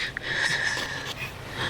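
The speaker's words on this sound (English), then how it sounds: "Everybody know what that breathing mean." Heavy, raspy wheezing breaths, close and continuous with a hissing, whistling quality over a short stretch.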